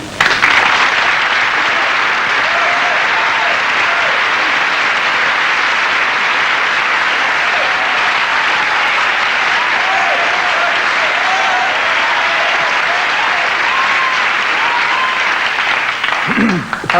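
Studio audience applause at a 1984 television chat show, a dense sustained roar of clapping from a large crowd that fills the whole stretch at steady loudness and fades only near the end.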